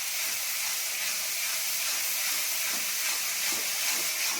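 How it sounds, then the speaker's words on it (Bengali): Spice masala for a Bengali chicken soup fries in a pan, giving a steady close sizzling hiss with no pauses or voices. "মশলাটা আমি একটু করে ভালো করে ভেজে নিই।"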